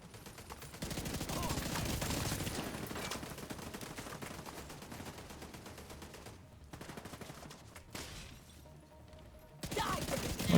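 Sustained automatic fire from Mk 46 and MG5 light machine guns in a video game, dense rapid bursts filling the first several seconds, then easing to scattered shots with a quieter gap before a final loud burst.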